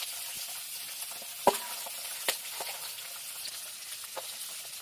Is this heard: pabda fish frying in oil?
yes